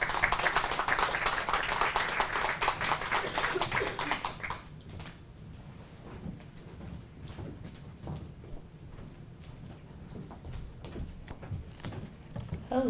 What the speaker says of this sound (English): please welcome with a warm round of applause, Dean Lin-Kirk.